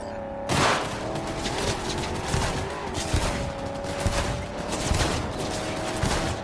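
Gunfire in the video game Cyberpunk 2077, shot from a moving car by leaning out of the window. Dense, continuous bursts of shots sit over a constant engine and road roar, loud and busy throughout with no voices.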